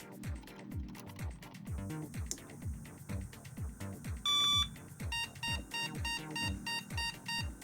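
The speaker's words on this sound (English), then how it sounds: "1 long and 8 short beeps. That means that everything is initialized, but the graphics card is missing." Tonal PC speaker POST beeps from a Soyo Am386DX motherboard on the bench, one longer beep and a run of short beeps, over a steady rhythmic clicking and hum in the background.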